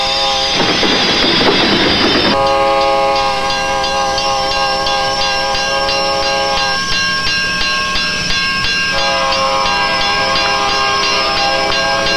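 An approaching train passes close by near railroad tracks, a strong noisy rush giving way to a steady tonal drone with sustained bell-like and whistle-like overtones and a constant hiss, loud and continuous throughout with no talking.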